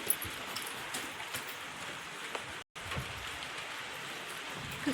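Steady, soft rain hisses over an open farm field, a faint, even wash of sound with no voices, briefly cutting out once midway.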